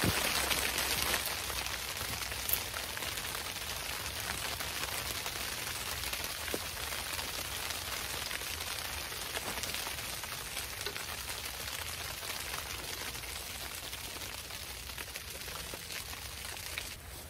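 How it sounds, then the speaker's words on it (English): Rain drumming steadily on a tarp tent at night, a dense continuous hiss of drops at fairly loud level with no let-up and no voices. "As you can hear, it started raining a little bit."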